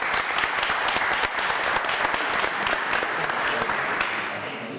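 A studio audience on a French quiz show claps, producing sustained dense applause that stays loud and close throughout, then eases slightly at the end.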